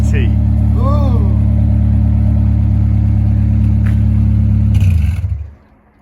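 A Honda S2000 engine with a decat pipe idles loudly with a deep, steady rumble, then is switched off and dies away, with a voice briefly heard over it.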